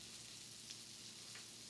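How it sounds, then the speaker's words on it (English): Polenta-crusted sablefish (black cod) sizzles in a pan with a steady, bright hiss, close and constant, with faint pops, and no talking. "Nice sizzling happening."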